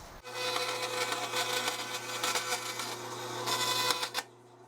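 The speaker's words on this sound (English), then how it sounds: "I'll go back over here to the bandsaw, we'll cut that out" A bandsaw cuts through wood for a custom guitar build, giving a steady buzzing, rasping whine with a low motor hum underneath, loud and close for about four seconds before cutting off.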